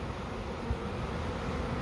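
A honeybee swarm in Uxbridge, Massachusetts, being rolled and tapped down into a box gives off a steady, dense buzzing that holds at an even, moderate level throughout, with one soft bump partway through.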